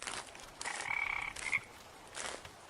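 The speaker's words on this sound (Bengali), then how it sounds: "শুধু একটানা শোনা যাচ্ছে ব্যাঙের ডাক।" Frogs croaking in the dark on a rural dirt path near a river, a few close, rattling calls in short bursts with gaps between them.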